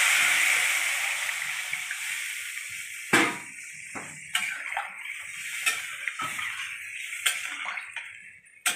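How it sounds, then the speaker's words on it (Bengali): Water is poured into a hot pan of fried cumin, chilli and bay leaf, and a sizzling hiss fades steadily. Sharp clicks and clinks of utensils on cookware are scattered throughout. "বন্ধুরা, এবার জল দিয়ে দিচ্ছি।"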